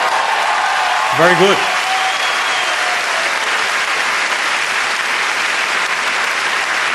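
Comedy festival audience applauding steadily throughout, a dense wash of clapping from a large crowd, with a brief spoken phrase near the start over it.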